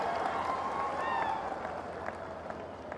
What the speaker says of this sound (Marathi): एकदा जोरदार टाळ्या आपण सगळ्यांनी वाजवल्या पाहिजे